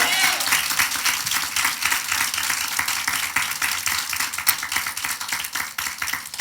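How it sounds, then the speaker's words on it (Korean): A church congregation applauding during a Sunday morning worship service, dense sustained clapping from many hands filling the room, steady and fairly loud throughout. "먼저 우리 하나님께 박수로 영광 돌리겠습니다"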